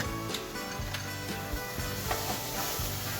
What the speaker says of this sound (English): I will put the tomato paste here, as you can see, and then I'm just going to give it a good stir